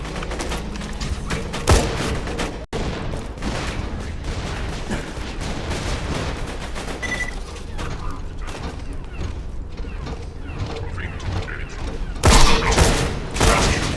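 Gunfire in the video game Borderlands 2, aimed at a fuse box, crackles in loud rapid bursts mixed with mechanical clanks and impacts, with a heavier volley near the end.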